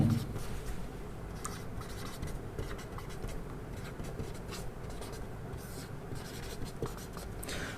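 Chalk or marker writing notes on a board during a geography class on plate tectonics, a steady scratchy scraping of strokes running throughout at moderate level with no talking.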